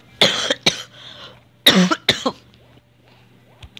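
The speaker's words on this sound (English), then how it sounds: "I may cough like a little bit, maybe a lot." A few harsh coughs in two bursts, close and fairly loud, followed by quieter throat noises and a faint low hum underneath.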